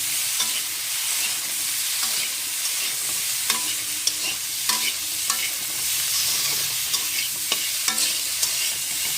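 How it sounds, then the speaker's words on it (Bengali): Cooking masala with Kashmiri chilli powder fries and is stirred in a pan, a dense continuous sizzle broken by repeated scraping and tapping of the spoon, close and steady with no talk. "চলো এবার এটা একটু ভাজা হয়,"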